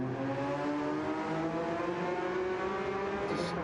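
Race car engine in an endurance racing game at the Red Bull Ring, a steady, moderately loud droning whine with shifting harmonics as the car runs at speed.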